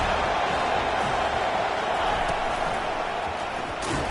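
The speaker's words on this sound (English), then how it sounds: "This crowd going to try to make life miserable for these guys." Football stadium crowd at a Florida State game: a steady, loud roar of many voices fills the whole stretch with no clear breaks, like a broad wash of noise.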